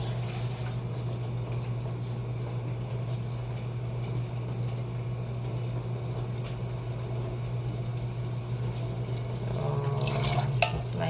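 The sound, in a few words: water poured into a can of mung beans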